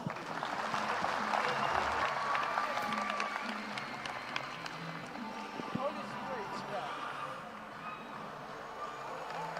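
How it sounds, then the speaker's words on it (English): A large crowd at the Kenya Kwanza manifesto launch in Kasarani stadium applauds in a broad, reverberant wash, loudest at first and easing off, with cheering voices mixed in. "A round of applause."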